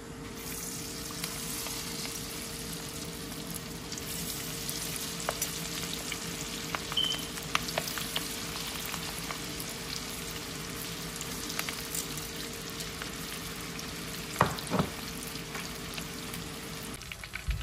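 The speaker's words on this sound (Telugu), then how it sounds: "చూడండి, రొయ్యలు ఇట్లా వేపేసుకోవాలి అన్నమాట." Shrimp frying for shrimp 65, a continuous close sizzle and bubbling crackle running steadily under a faint electrical hum, with a couple of sharper clinks near the end and no voices.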